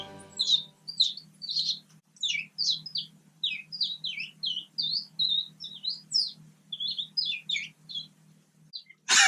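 A person whistles, imitating bird song, in a quick series of high, chirping phrases, fluttering and warbling in short bursts, close and clear over a faint low hum.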